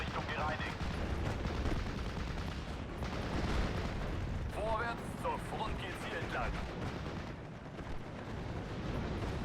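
Lorraine units in Steel Division: Normandy 44 fire in dense, continuous volleys of game gunfire and explosions, under a voice talking throughout.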